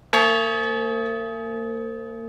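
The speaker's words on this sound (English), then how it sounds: "A group of veteran volunteers toll the bell." A 1,000-pound bronze memorial bell, cast with artifacts from Colorado veterans and tolled by veteran volunteers, is struck once and rings out loud and clear, its deep hum and bright overtones sustaining as they slowly fade.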